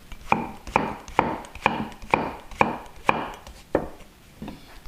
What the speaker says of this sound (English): As for garnish, courgette, half, slice it first.